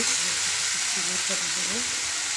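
Curry sautéed with green chilli and chilli powder hisses in a steady, close, dense sizzle, with a faint voice murmuring underneath.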